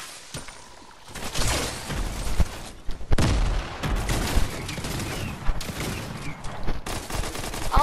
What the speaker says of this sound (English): That's why I heard gunfire.